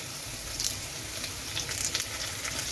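Ginger, green chilli, chopped onion and curry leaves fry in hot oil for corn uppuma, making a steady, fairly quiet sizzle with small crackling spurts.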